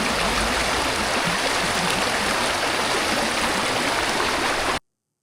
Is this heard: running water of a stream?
yes